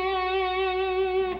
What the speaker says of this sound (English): here's where our hammer-on and pull-off comes into play.